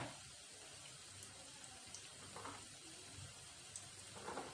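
Mendu vada fry in hot oil, giving a steady, fairly faint hiss and crackle that holds evenly throughout, with a few slightly stronger bubbling bursts and no voices.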